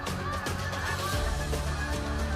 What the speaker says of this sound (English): you might catch a glimpse of 4 billion birds migrating south for winter